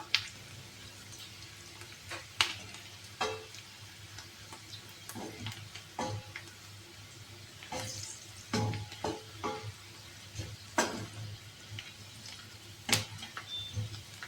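Soft sizzling and scattered crackles as curry leaves, garlic and ginger stir-fry in a hot pan, with occasional sharp pops and stirring scrapes, fairly quiet and close.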